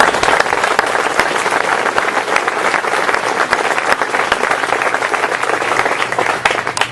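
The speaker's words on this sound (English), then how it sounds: "So you all should give yourselves a round of applause." Audience applause at a fraternity chapter house dedication, loud sustained clapping from a sizable crowd with sharp individual claps standing out, continuing steadily throughout.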